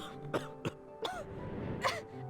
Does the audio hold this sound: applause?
no